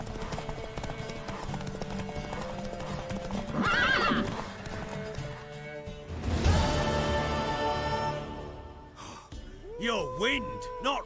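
Horse hooves clip-clop and a horse whinnies in The Witcher 3, with game dialogue playing over the sounds and a final neigh rising near the end.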